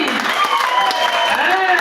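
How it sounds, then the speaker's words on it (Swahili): Crowd clapping at a gathering in Eldoret, a dense patter of handclaps heard under voices and ringing, sustained tones. "Tupige makofi"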